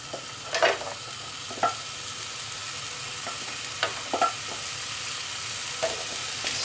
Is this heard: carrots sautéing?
yes